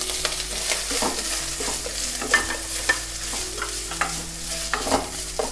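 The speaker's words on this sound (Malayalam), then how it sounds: "ഇനി നമുക്ക് ചതച്ച് വെച്ചിരിക്കുന്ന അരപ്പ് ഇട്ട് കൊടുക്കാം." Crushed spice paste fries in a pan with browned onions and is stirred, giving a close, continuous sizzle broken by repeated scraping strokes of the spoon, with no talking.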